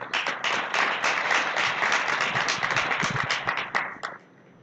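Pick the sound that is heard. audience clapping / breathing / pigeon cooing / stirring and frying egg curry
audience clapping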